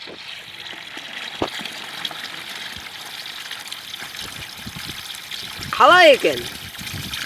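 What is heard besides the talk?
spring water flowing continuously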